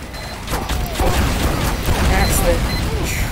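Rocket blasts from the Team Fortress 2 rocket jumper, a series of loud booming explosions with mechanical clatter, fairly continuous over a few seconds, with a voice talking over them.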